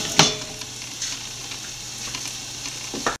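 Squid and tomatoes with roasted capsicum cooking in a pan, a continuous close sizzle with a sharp knock near the start and scattered light clicks of a utensil.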